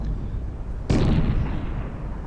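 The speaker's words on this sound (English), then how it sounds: "he makes a comeback and fires a broadside on my stern" A sailing ship's cannon broadside booms out in a Napoleon: Total War naval battle, one loud sudden blast that rolls on as a sustained rumbling roar over the game's background noise.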